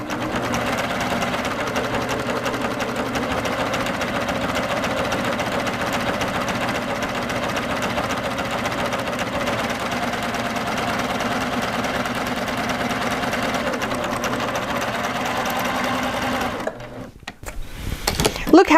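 A Baby Lock Applaud sewing machine stitches along a fabric edge against a guide, humming steadily and closely at an even pace for about seventeen seconds before stopping.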